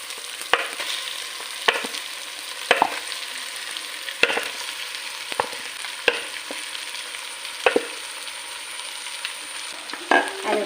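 Cooked potato, beetroot and carrot being stirred into a frying masala, with a steady sizzle under sharp, irregular scrapes of a spoon against the pan, close and clear, roughly every second, without any talk.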